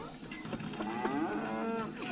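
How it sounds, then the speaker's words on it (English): Cow mooing in a cartoon episode, a drawn-out, wavering low moo close up that carries on for about two seconds over faint background sound. "Why is there a cow?"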